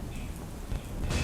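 Heavy, torrential rain pours down during severe flooding in Junagadh, Gujarat, making a dense, continuous roar of water on surfaces, loud and steady throughout the short stretch.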